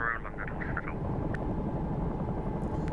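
Bell 222 helicopter in the X-Plane 11 flight simulator with rotor RPM at 102%: a steady, dense rotor and turbine rumble, constant and close, with brief faint tones at the start.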